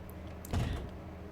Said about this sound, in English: I grip the doorknob and take a deep breath before finally opening the door.